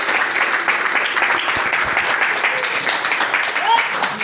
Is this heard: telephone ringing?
no